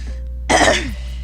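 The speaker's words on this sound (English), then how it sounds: "I'm going to be clearing my throat in your guys' ear a lot" A single short, close throat clearing, a raspy rough burst over a steady low hum.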